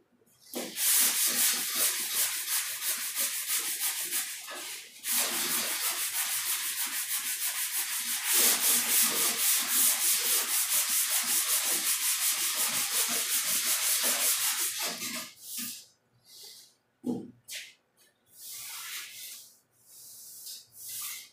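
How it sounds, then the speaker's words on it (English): A car body panel coated with guide coat is sanded by hand, making long continuous rubbing, scratching strokes close up, with short pauses near the end. "Spot right there, I was telling you about, sanding it out."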